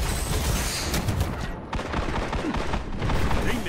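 Sustained gunfire from the video game Destiny, dense overlapping bursts like a fusillade with some heavier booms, loud and continuous throughout with a brief dip midway.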